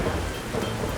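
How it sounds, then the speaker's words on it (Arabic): Steady heavy rain falls outside with a low, continuous rumble of thunder, a dense even wash of sound with no voices. "الدنيا بتمطر بره."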